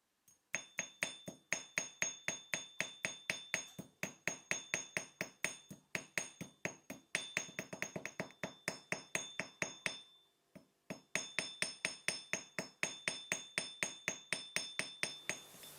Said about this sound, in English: So I've kept hammering it a bit more now